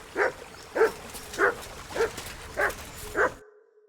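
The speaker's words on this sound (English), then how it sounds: "Good dog, Mutt. Show me." Mutt the dog in Kingdom Come: Deliverance II gives six short, evenly spaced yips and barks, each a clear separate burst close by, before the sound cuts off.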